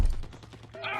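A quick string of rapid gunshots rattles out in a video game, a short close burst lasting about a second.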